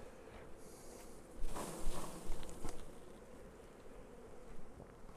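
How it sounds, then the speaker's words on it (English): Calm honey bees humming inside an opened hive during swarm-control splitting, a soft steady drone with occasional nearby handling knocks, faint and without talk. "They're really calm bees, though."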